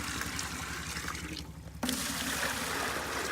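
Hot water splashes and trickles steadily as it is poured into a bucket for milking a cow, with a brief pause partway before the pouring resumes, close and continuous.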